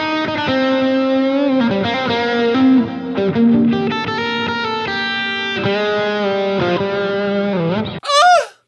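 Electric guitar played through an overdrive pedal with delay and reverb, ringing sustained notes and bends in a loud, continuous lead line that cuts off near the end before a brief final swell.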